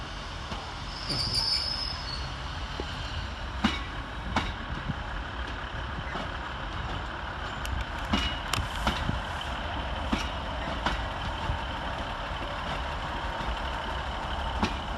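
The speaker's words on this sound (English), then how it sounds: "Arriving back into the station on its ECS working through Carlisle is" Northern class 156 unit 156416 rolling into Carlisle station on an empty coaching stock working, wheels squealing on the rails and brakes hissing over steady rumble, with sharp metallic screeches scattered throughout at close range.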